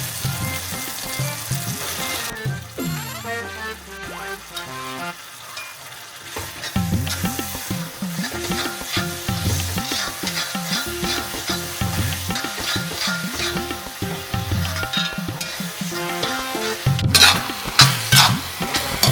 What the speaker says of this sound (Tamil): மட்டன் போட்டு ஒரு தேர்ட்டி செகண்ட்ஸ் கிளறிட்டு திரும்ப ஒரு தேர்ட்டி செகண்ட்ஸ் அப்படியே விட்டுட்டேன்